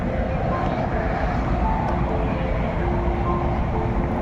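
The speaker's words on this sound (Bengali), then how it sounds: "আসছে বোধ হয় আর একটা মেট্রো আওয়াজ হচ্ছে" A metro train roars past close by in a steady, dense rumble, with faint voices mixed into the noise.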